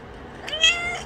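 A single clear cat meow rises and falls near the listener, brief and tonal against a quiet room.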